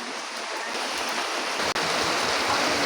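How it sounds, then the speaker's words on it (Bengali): Fish curry with cumin-coriander paste boiling in a pan, a steady, close bubbling rush that continues without break, with a single brief click partway through. "এবার ভালো করে ফুটিয়ে নেব, নেড়ে নিয়ে ভালো করে ফুটিয়ে নিতে হবে।"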